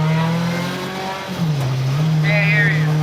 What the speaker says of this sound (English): I'm driving in a really loud car.